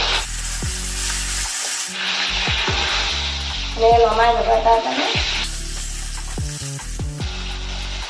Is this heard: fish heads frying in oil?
yes